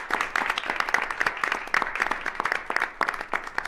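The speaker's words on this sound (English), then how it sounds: "Another round of applause for all of them" Audience applause at a board of education meeting, a dense spread of many hands clapping steadily at moderate distance for several seconds, with no voices over it.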